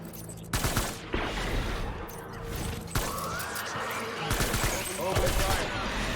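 Rapid gunfire from the Death Stranding video game comes in loud, dense volleys separated by brief lulls, over continuous battle noise.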